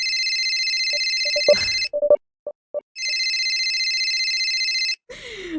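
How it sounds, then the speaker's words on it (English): An incoming call sets off a phone ringtone: a loud, sustained electronic ringing tone plays, cuts off briefly for a few short beeps and taps, then rings again before stopping. "Holding my breath, I pull up my phone, taking a quick glance to see who was calling."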